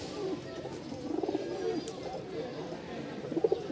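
Giribaz pigeons coo softly in short repeated bursts while someone speaks over them nearby.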